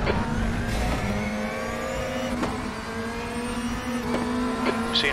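DTM 2016 race car engine in the RaceRoom Racing Experience sim at the Red Bull Ring, a steady loud drone with shifting revs and brief sharp changes, close and continuous throughout.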